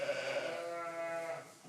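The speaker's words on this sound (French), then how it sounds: "Et il a de quoi faire, Daniel, avec ses 80 brebis qu'il faut traire tous les jours à la main." Sheep bleating inside a sheepfold where a flock of about 80 ewes is kept for hand milking; overlapping nasal bleats sound close and steady through the whole stretch, with no talk.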